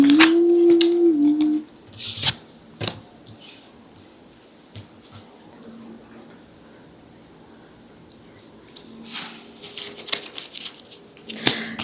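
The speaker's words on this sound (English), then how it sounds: "let's start shuffling." Tarot cards are shuffled by hand in quick riffling bursts and sharp snaps, close and fairly loud, separated by quieter pauses of faint handling.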